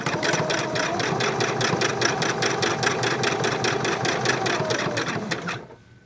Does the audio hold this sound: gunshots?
no